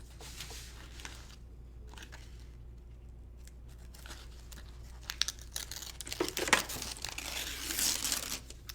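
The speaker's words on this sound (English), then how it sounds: "we've scored and we've ripped all of the paper off" Paper backing being torn off sticky embroidery stabilizer, faint crinkling at first that builds into louder ripping and crumpling toward the end, close by with no talk.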